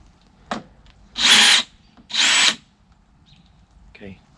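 A power drill whirs in two short bursts to remove screws from an outdoor storm door, with a brief click before and a short voice after.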